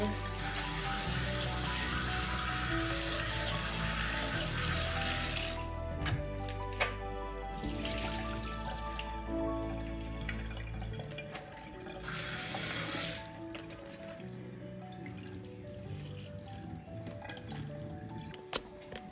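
Ripe plums, some starting to rot, are rinsed under a running kitchen tap, a steady close gush of water with shifting splashes and a few drips, alone without talk.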